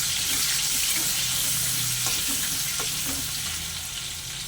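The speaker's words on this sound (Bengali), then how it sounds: "এবার আমি ওই তেলের মধ্যে দিয়ে দেবো পেঁয়াজ কুচি, লঙ্কা কুচি," Continuous loud sizzling of chopped onion and chili frying in hot oil, with a few light stirring clinks and scrapes.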